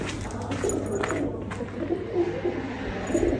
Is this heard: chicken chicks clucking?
no